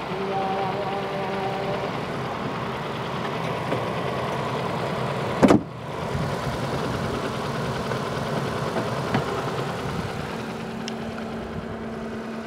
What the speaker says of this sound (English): Hey, I already started the car,